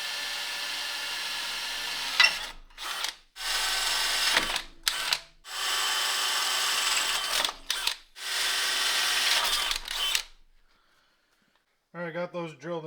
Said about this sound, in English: All right, we'll go ahead and drill those out.